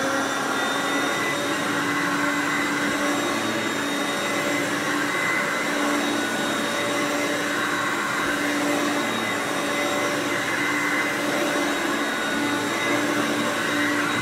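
A Hoover Concept One U4219 upright vacuum cleaner runs with a constant, loud motor whine and airy rush, unbroken and even from start to finish, with no talking.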